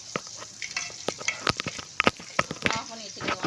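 Onions sauté in a pan for a chicken gravy, a close sizzle and fry broken by sharp scraping stirs of a spoon, with soft speech underneath.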